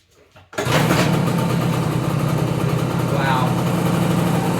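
A 1970 Kawasaki Bushmaster motorcycle engine catches abruptly after a short quiet moment, then settles into a steady, close idle without choke.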